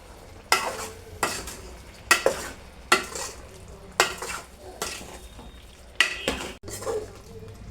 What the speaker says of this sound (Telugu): ఇప్పుడు కొంచెం కలుపుకోవాలి.